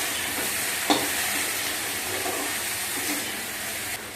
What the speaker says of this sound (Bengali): ওটাকে একটু ভেজে নিচ্ছি